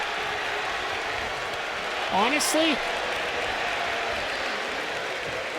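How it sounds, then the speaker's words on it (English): Arena crowd in WWE 2K25 wrestling game keeps up a steady roar of cheering, broad and constant, while someone talks over it and briefly sings a short melodic line midway. "as this crowd is going crazy"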